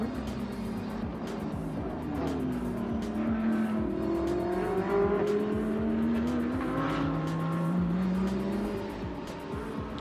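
GT race cars at Sepang International Circuit in Malaysia roar past in a steady stream, engines rising and falling in pitch with loud, continuous revving close by, with faint tire noise underneath.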